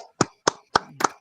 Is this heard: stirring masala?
no